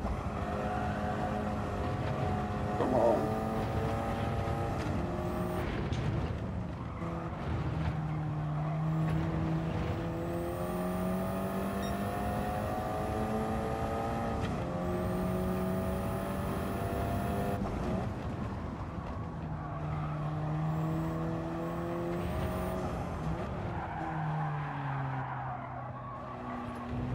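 A race car in Gran Turismo 7 drives continuously, its engine rising and falling through gear changes while the tires squeal and skid repeatedly during a daily online race, loud and close without talk.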